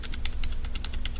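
Computer keyboard keys are pressed in a rapid string of about a dozen crisp clicks in an uneven typing rhythm, close and moderately loud, with no voices.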